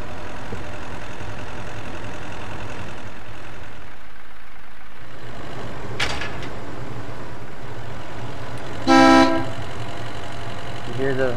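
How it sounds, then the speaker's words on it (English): A vehicle horn in the war game Foxhole gives a short, loud honk late in the clip over a steady engine rumble, with a brief earlier tonal burst and faint voice chatter. "You hear my horn?"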